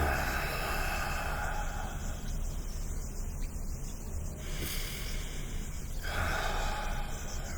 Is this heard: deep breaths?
yes